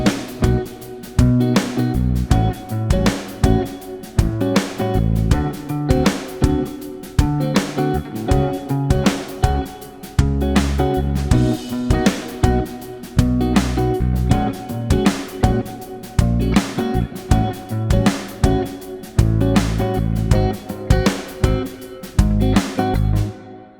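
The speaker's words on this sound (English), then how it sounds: "use pedal tones to create awesome neo-soul chord progressions" Neo-soul chord progression on electric guitar built around pedal tones, with dense sustained chords and a steady rhythmic pulse played continuously, loud and close, no voices.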